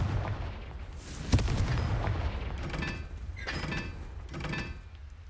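A Confringo fire spell explodes in the Hogwarts Legacy video game, a sharp booming blast near the start followed by rumbling and further crackling bursts, with no talk.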